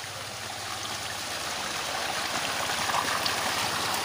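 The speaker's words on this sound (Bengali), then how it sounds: "এই যে জল চলছে," Water runs steadily into a small pool dug in a field, a close, continuous rushing and splashing that swells slightly toward the end, with no talk.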